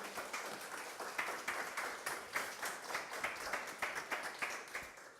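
An audience claps steadily after a lecture by Prof. Ricardo Bagnato at FATEO, with many hands forming a moderately faint, rhythmic applause that holds a regular beat.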